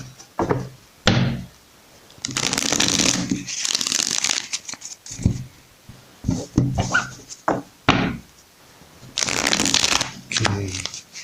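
A tarot oracle card deck is shuffled at close range in several long riffling bursts, with thumps and taps of the cards between them.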